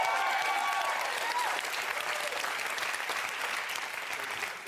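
Sustained applause from a TV studio audience fills the whole stretch, steady and dense, fading slightly toward the end.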